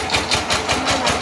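A power tiller's engine drives a maize threshing machine, chugging in a fast, even mechanical rhythm up close, loud and steady with no voices.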